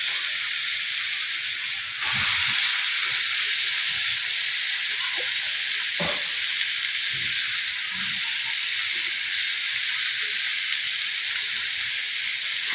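Grated raw papaya is tipped into a hot pan for a dry curry, bringing a steady loud sizzle and hiss of frying with a few soft stirring clatters and no voices.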